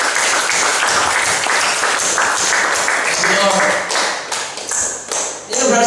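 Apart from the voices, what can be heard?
applause, clapping of hands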